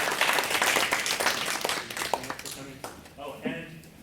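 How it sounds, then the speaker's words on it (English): An audience applauds after a university AI lecture on language understanding, with dense clapping that thins out as a voice starts talking over the final seconds. "let's give Dr. Chris Potts another big round of applause"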